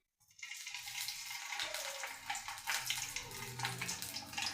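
Curry leaves dropped into hot oil in a pan burst into a loud, sustained sizzle and crackle right after a brief silence, continuing steadily near the microphone.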